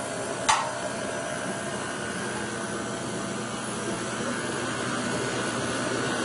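An electric mixer blends chocolate chip cookie dough, its motor giving a loud, continuous whirring drone after a single sharp click at the start.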